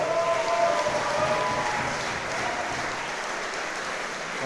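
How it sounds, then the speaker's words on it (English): After a squash match a crowd applauds, a dense, even wash of clapping that stays loud and steady for several seconds, with no voices over it. "let's have a round of applause for both of our players"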